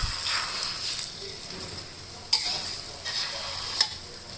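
A basil omelette fries in a pan in a steady crackling sizzle, puffing up crisp and golden, with a few sharper clicks of a utensil scraping the pan and no talking.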